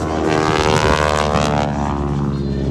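A propeller airplane performs at an air show, a loud, steady engine drone with a buzzing prop note that fills the whole stretch and eases slightly toward the end, with no voices over it.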